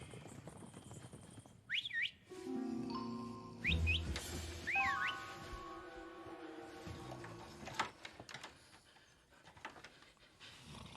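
Bora wind whistles at night, giving several short rising-and-falling shrill whistles over a steady humming drone and a windy rush, fairly loud and near, with no voices.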